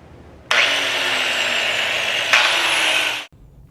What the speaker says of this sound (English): I switched over to a corded angle grinder